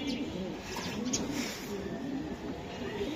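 Racing pigeons coo softly in a steady low burbling murmur, faint and continuous against a hissy room background.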